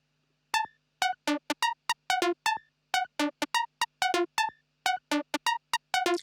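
Dry, short synth plucks with no effects play a fast pattern alone, each note clipped and clean, leaping up and down in pitch with no reverb tail.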